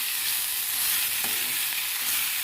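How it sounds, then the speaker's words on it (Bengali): Food frying in a pan, giving a dense, even sizzle close by with an occasional light stir, unbroken and with no voices. "এটাকে আমি খুব ভালো করে ভেজে নিয়েছি"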